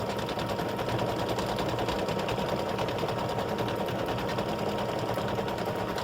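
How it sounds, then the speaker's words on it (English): An embroidery sewing machine stitches leaves onto a mug rug, its needle running in a fast, steady, even rattle from start to finish, close and continuous. "So it's stitching the leaves, and at least now you can see some of the leaves that it's stitching out."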